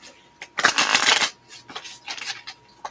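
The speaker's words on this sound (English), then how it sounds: "Two more shuffles." A close, crisp riffle of oracle cards being shuffled, one long burst followed by a softer second shuffle, with brief pauses between.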